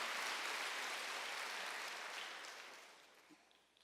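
Congregation clapping at a Wednesday church worship service, a dense wash of applause that starts loud and gradually fades away over a few seconds, with no talking.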